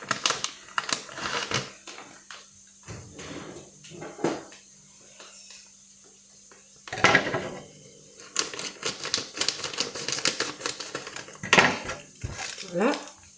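A package of gnocchi is torn and opened in a kitchen, with crinkling plastic, rustles and light clicks spread over several seconds, mixed with a French-speaking voice.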